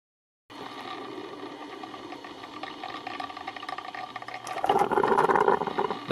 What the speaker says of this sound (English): My espresso machine, giving my coffee that extra boost of energy that I need in the mornings.